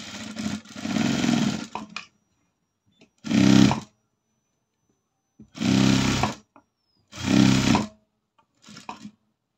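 A sewing machine stitches a chudithar top in loud whirring bursts: one long run, a short pause, then three more runs of a couple of seconds each and a brief final burst, with silence between.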